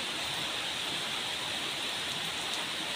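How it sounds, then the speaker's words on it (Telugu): The season's first rain falls steadily on a village in May after a hot spell, a dense, even hiss of drops that carries on unbroken with no voices. "జూన్లో పడే వర్షాలు ఇప్పుడే పడుతున్నాయి"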